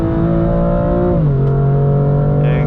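A 2020 BMW M2 Competition engine drones loudly and steadily close by, its pitch dropping sharply once partway through as the gear changes, then holding a lower, even growl.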